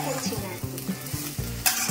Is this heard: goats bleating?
no